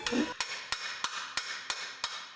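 Seven sharp metallic taps of a hammer at a steady, even pace during repair of a Scion tC, each ringing briefly, with a duller knock at the start.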